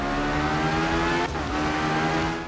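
A rally car engine from the game Art of Rally drones and revs steadily for about two seconds, loud and close, with a brief dip partway through and no voices.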